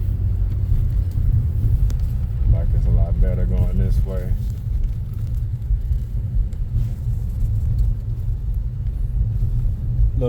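A car drives through snow on residential streets after a blizzard in St. Louis, giving a steady, loud low rumble throughout, with a voice speaking briefly in the middle.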